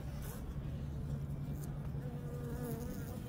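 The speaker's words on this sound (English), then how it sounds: "if you can see down in there, there are lots of bees" A dense swarm of honeybees in a full hive hums steadily and close, a continuous low droning buzz with no break, quite faint overall.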